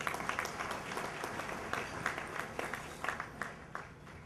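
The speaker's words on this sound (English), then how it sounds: "Give her another round of applause" Gala audience applauding in a large room, steady moderate clapping with distinct individual claps popping out, heard from some distance and fading slightly toward the end.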